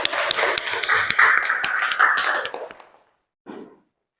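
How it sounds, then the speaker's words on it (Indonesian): Classroom students applaud a classmate, a burst of brisk, close clapping from many hands for about three seconds that stops abruptly, followed by a brief soft sound after a pause. "Tepuk tangan dulu untuk Mbak Heisya"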